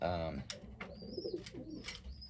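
A grizzle racing homer pigeon coos softly in a few low murmuring bursts, with faint high chirps from other birds nearby and some background voices.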